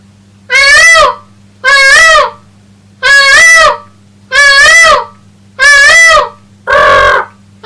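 A man imitates a peacock with six loud, harsh, nasal calls spaced about a second apart, close to the microphone, over a low steady hum.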